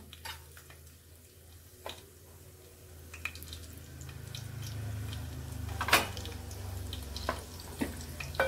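Garlic, mustard seeds and cumin fry in hot oil in a home kitchen, a soft steady sizzle with occasional pops and stirring clinks, no talking over it.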